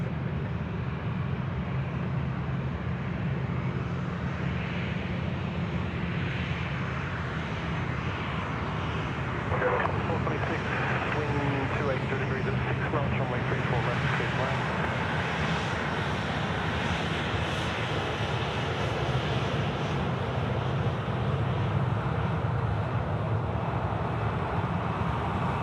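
A Garuda airliner on its takeoff run at Sydney Airport produces a sustained, broad jet engine roar that holds steady and loud throughout, heard from a spotting position.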